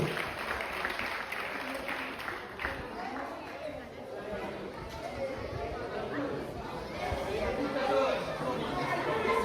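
An audience applauds at a martial arts day demonstration, scattered clapping that rises and fades beneath someone speaking throughout, with crowd chatter and movement in the background.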